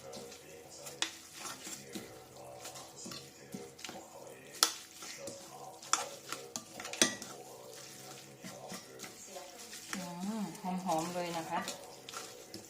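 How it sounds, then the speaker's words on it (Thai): Minced pork and glass noodle larb mixture being stirred in a bowl, with soft scraping and clinking of a spoon against the dish through the clip, steady and close, with a denser burst of stirring near the end. "คนส่วนผสมให้เข้ากันนะคะ"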